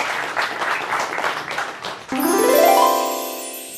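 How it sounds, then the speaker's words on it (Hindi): An audience at a Republic Day mushaira bursts into loud applause to welcome a poet, about two seconds of dense clapping cut off by a bright rising musical chime. "आप ज़ोरदार तालियों से उनका इस्तकबाल कीजिए"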